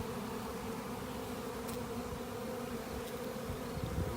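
A dense, continuous drone of many honey bees buzzing together inside their hive, steady and close, without talk.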